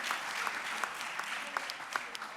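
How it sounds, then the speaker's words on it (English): Conference audience applause for a speaker at a sustainable tourism event: steady, dense clapping from a roomful of people, fairly distant and even throughout. "a big round of applause for Karen would be very much appreciated"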